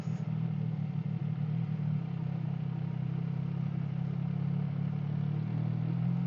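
A Suzuki GSX-S150 motorcycle engine runs at a steady low hum, even and continuous, close by and with no talk over it.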